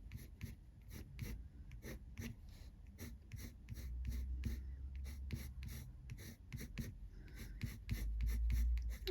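Coloured pencils scratch and rasp across paper in quick, repeated strokes, close and steady, with soft breathing noises from someone nearby and no talk.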